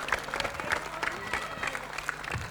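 A crowd at a squash match applauds a drop shot with brisk, close clapping and faint cheering, steady for a couple of seconds under a little talk.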